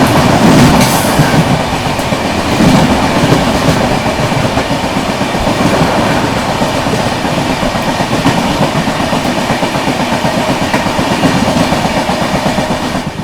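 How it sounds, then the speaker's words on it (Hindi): The Anand Vihar Terminal–Gorakhpur Humsafar Express thunders past close by, a loud continuous roar of wheels and rhythmic clickety-clack from its coaches filling the whole stretch without letup. "सामने से आ रही है आप लोगों की आनंद विहार टर्मिनल गोरखपुर हमसफर एक्सप्रेस"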